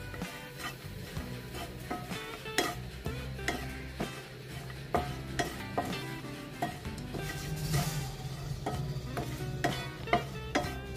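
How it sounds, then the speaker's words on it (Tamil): Cashews, almonds and roasted gram being dry-roasted in a pan for sweet somas, with a spoon scraping and clattering against the metal in irregular strokes over a soft sizzle, close and alone. "முந்திரி, இந்த பொட்டுக்கடலை எல்லாத்தையும் வறுக்கணும்."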